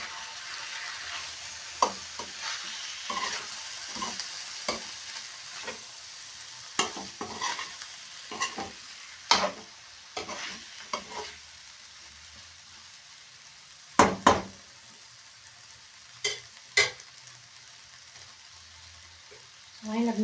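Ground beef frying in a pan with a sauce being stirred, a steady sizzle underneath and repeated scraping stirs that come in irregular clusters, close and clear.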